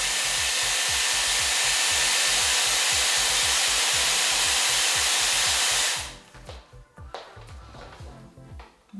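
Dyson Airwrap round brush blowing air on hair, a loud close whooshing motor roar that holds steady for six seconds, then cuts off to quiet handling noises.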